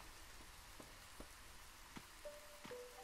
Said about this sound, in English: Okay, so rain is happening still.